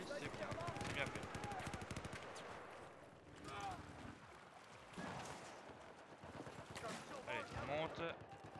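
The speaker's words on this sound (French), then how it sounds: "Ouais, on me tire dessus là." Automatic gunfire in Battlefield 4 aimed at the player, rapid bursts of shots coming in waves with quieter gaps between, a voice speaking over parts of it.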